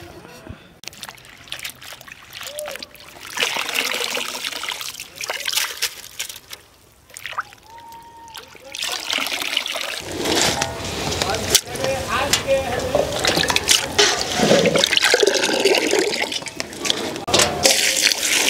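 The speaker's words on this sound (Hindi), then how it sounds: "ये देखिए पालक को हमने काट दिया है इसको डूबते हुए पानी में दो तीन बार धोएंगे" Chopped spinach being swished and washed in a vessel of water in a kitchen, with close splashing, sloshing and trickling that grows busier in the second half while a voice talks intermittently.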